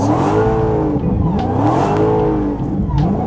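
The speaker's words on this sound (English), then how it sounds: "Hold the brake down, and don't let go of the brake, and mash the gas" Car engine revving hard with the brake held and the gas mashed, maybe a Dodge Demon 170 or Charger EV, loud and close, the pitch rising and falling in repeated surges with tire noise underneath.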